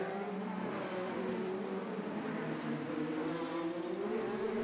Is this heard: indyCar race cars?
yes